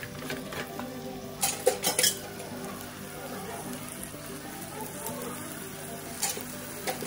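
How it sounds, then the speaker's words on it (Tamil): Chicken being stirred in a pan with masala, a spicy dry roast cooking on the stove: steady sizzling with scraping spoon-on-pan clatters and occasional sharper knocks throughout. "இது நல்லா இந்த மசாலா கூட நல்லா மிக்ஸ் பண்ணிக்கலாம்."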